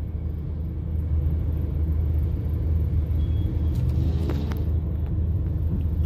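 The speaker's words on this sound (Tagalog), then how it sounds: "Grabe yung traffic." Heavy road traffic in Binondo around Chinese New Year: a constant deep rumble of engines and idling vehicles, with a brief hiss like an air brake partway through.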